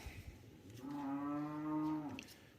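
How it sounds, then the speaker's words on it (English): A single long, low moo from a hungry cow on a farm, lasting over a second, fairly close and clear, with faint background noise before and after. "sorry about the cows, they're mad because they ain't got no hay yet"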